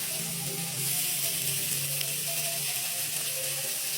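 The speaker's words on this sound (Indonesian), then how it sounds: "sekarang kita tambahkan air" Steady close sizzling of a frying pan after water is poured in for a broth, with a dense crackling hiss and low bubbling holding level throughout, no voices.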